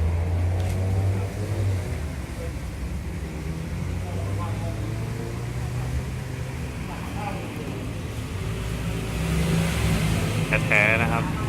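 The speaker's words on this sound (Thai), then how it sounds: "มาดูรถในตำนานนะครับ Vespa Super 150" A restored 1965 Vespa Super 150 scooter engine runs steadily at idle with a low putter and occasional revs, while someone speaks over it.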